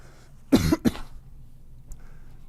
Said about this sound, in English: Oh, he's still coughing.